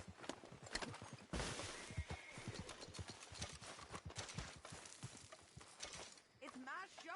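Horse hooves clip-clop in a rapid, uneven rhythm in the video game Red Dead Redemption 2, close and clear, while characters talk over the movement.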